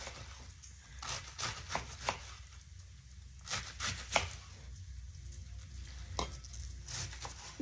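A knife slices into a cabbage on a kitchen board, giving a run of short, close crunching cuts and chops in an uneven rhythm against a steady low kitchen hum.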